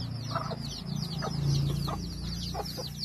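A mother hen with her brood of fifteen chicks clucks in short repeated bursts while the chicks keep up a constant high, rapid peeping close by.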